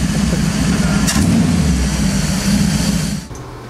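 A tuned car engine idles and runs steadily at close range, a loud continuous low rumble with a slight rise in revs partway through and a drop near the end.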